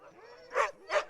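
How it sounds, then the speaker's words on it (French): At a kennel of some sixty dogs, two quick, loud barks follow each other closely, with a faint whimper beforehand. "Ça, c'est le plus compliqué quand on a 60 chiens."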